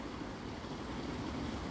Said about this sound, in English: you can clearly hear the river, the Daff going down there